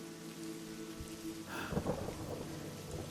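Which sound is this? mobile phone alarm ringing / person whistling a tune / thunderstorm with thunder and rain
thunderstorm with thunder and rain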